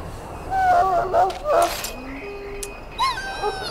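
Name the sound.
dog whimpering in the video game Dragon Age: Origins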